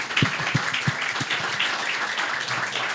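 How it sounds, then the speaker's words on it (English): An audience at a cultural institute event applauds to welcome the new director, a moderate, steady patter of clapping with a few heavier thumps near the start. "I would like to invite Claudio to come to the stage and take your applause of welcome"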